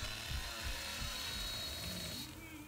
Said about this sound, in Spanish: ¿Y acelerar motosierra para qué sirve?